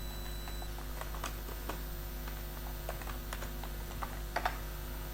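Someone types a command on a computer keyboard in an irregular run of light, close key taps over a low steady hum, ending with a couple of sharper presses.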